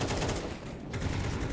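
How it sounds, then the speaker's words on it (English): Gunfire in a Counter-Strike match: a continuous barrage of loud rapid shots rattles throughout, with no speech. "we do see Kragan gunning them all down."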